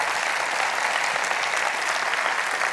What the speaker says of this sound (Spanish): Si Dios te habló, dé un aplauso al Señor